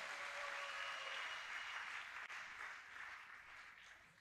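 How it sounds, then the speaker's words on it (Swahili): A church congregation applauding loudly and steadily in praise of the Lord, a dense, continuous wash of many hands clapping at close range with no talk over it. "Tumchapie Bwana makofi na nguvu."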